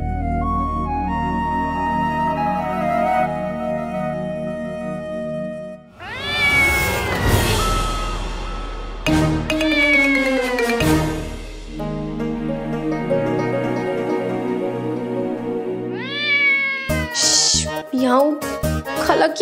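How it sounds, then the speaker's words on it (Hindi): Cat meows ring out over a music-filled scene, with loud dramatic score and sound effects dominating and the cat's calls partly blended into the mix. "खाला की बच्ची शिकायती बिल्ली चुपचाप यहाँ पे पड़ी रहे, समझी?"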